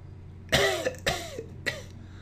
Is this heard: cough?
yes